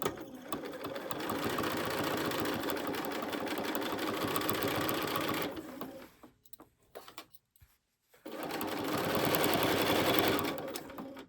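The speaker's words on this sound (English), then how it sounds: "So I've got the raw edges of my binding lined up to the raw edges of my quilt, and I'm going to start stitching." Close, steady whirr of a sewing machine stitching binding onto a quilt, running for about five seconds, pausing briefly with a few small clicks, then running again at full speed.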